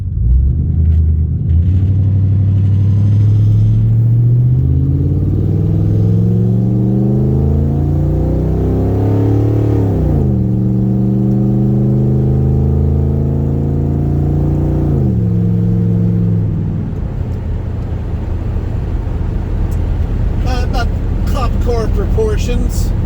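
A 2004 Mercury Grand Marquis cruising on a road gives a loud, steady engine rumble from inside the car, with engine pitch climbing and falling through shifts as it accelerates.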